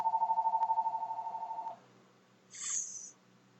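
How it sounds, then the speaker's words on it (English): A telephone rings with a steady pulsing electronic trill for under two seconds, then stops, followed by a brief higher chirp; quiet room background and no voices. "Excuse me, phone was ringing."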